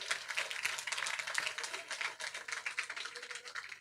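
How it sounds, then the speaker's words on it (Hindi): Scattered clapping from a crowd at an outdoor political rally in a residential colony, steady and moderately distant, with faint voices underneath. "भाई तालियां तो बजाते रहो भाई"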